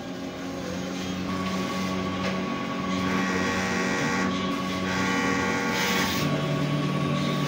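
An inkjet printer runs a print-head cleaning cycle with a continuous mechanical whir and hum, its pitch and intensity shifting in stages as motors cycle through a steady, droning process.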